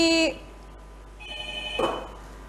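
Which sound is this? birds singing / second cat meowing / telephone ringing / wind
telephone ringing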